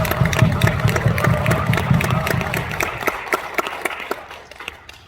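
Applause from a seminar audience for two speakers, a politician and a professor: dense, steady clapping that thins into scattered claps and fades over the final seconds.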